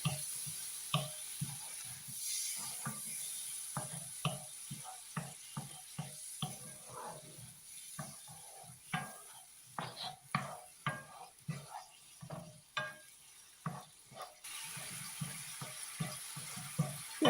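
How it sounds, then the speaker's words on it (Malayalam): Curd going into a sizzling pan of chilli pickle, with soft frying hiss beneath a steady run of quick scraping and clicking stirs, close and fairly quiet. "ഇനി നമുക്ക് തൈര് ഒഴിക്കണം"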